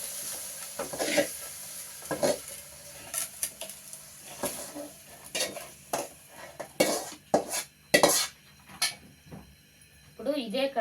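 Chicken fries in oil for kodi kura vepudu, Andhra style, with a low sizzle beneath repeated sharp scrapes and clinks of a spoon stirring against the pan, irregular and close.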